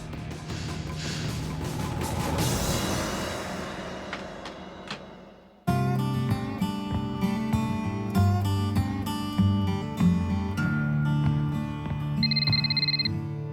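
A telephone rings briefly near the end of a noisy bar scene at a saloon, after a crash and over a busy music bed. The ring is short and bright.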